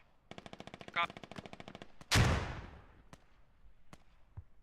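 Rapid machine-gun bursts rattle in quick regular shots during an online military shooter match, then a heavy mortar strike bursts loudly with a decaying rumble, followed by scattered single shots and a brief voice.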